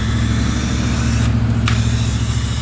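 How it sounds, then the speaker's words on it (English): Mr. Clean AutoDry car wash sprayer misting filtered, deionized water over a car, a steady broadband hiss running over a constant low hum, with one brief sharp tick partway through. "So you just set to that and spray with this"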